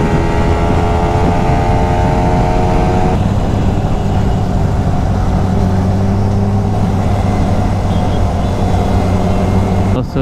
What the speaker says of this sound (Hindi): Super bike super bike.